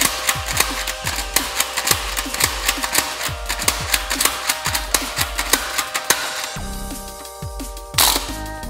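Repeated sharp plastic clacks from a Nerf Zombie Strike Nailbiter blaster as its slide is pulled fully back and pushed fully forward, a quick steady run of close, loud mechanical strokes with no talking.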